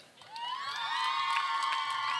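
A studio audience at a Bulgarian dance competition show cheers loudly for a contestant, a sustained crowd roar with whoops swelling after a brief quiet start.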